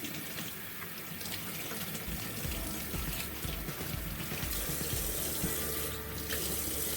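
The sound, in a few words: rinsing carrots under running tap water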